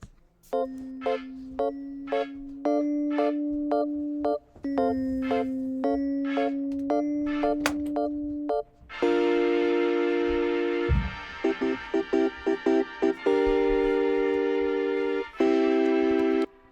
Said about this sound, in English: This kind of synth bells, and those sound like this.